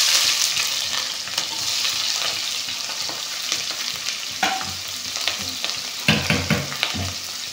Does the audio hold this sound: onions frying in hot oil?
yes